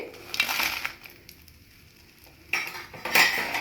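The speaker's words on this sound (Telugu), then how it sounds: "ఇప్పుడు ఇవి మిరపకాయలు కూడా వేస్తుందండి" Green chillies frying in a pan, with bursts of sizzling and the scrape and clink of a utensil stirring against the pan, a quieter lull in the middle, then louder stirring and sizzle near the end.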